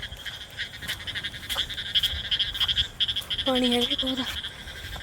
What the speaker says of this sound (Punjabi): ਡੱਡੂ ਬੋਲਦੇ ਟਿੱਡੀਆਂ ਜੀਆਂ